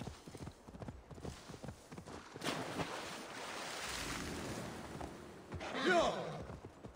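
Horse hooves clip-clop in Assassin's Creed Valhalla, a steady galloping rhythm at moderate loudness over wind and surf-like ambience, with a brief swell of noise near the end.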